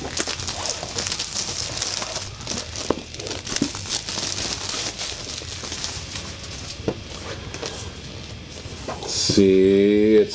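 Paper inner sleeve of a vinyl record album crinkling as it is handled, a steady close rustle through most of the clip with a louder burst near the end.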